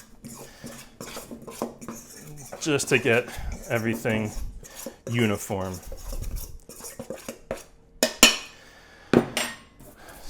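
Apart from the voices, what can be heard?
fork mixing dry cake ingredients in a bowl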